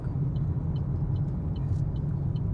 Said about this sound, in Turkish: Kaldırdık debriyajı motor freni devreye girdi